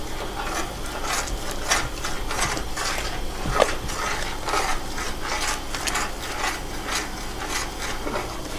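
Soup for Vietnamese asparagus crab soup being stirred steadily while eggs are slowly poured in, a continuous scraping, rasping rhythm of a utensil against the pot with repeated strokes, close and fairly loud, no talk.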